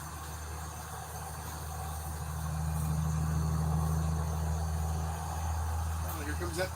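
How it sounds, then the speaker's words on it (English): Logging truck approaching a greenhouse, a low engine rumble that swells gradually to a peak mid-clip then eases slightly, near and steady, with no talk. "It's one of the logging trucks that you guys are about ready to hear."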